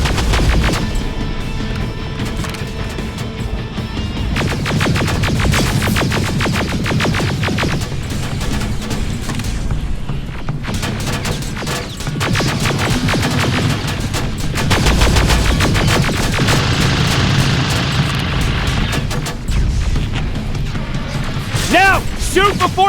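Gunfire in Terminator Resistance: loud, rapid bursts of automatic fire layered with explosions and mechanical clatter, continuing almost without pause, with voices calling out during the fight.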